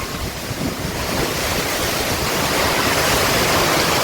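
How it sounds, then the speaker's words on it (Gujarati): Strong storm wind driving rain over a village, a dense roaring rush that swells slightly and holds steady, loud and close without any voices. "પવન ને વરસાદ સપાટા દે ફફડાટી બોલાવે"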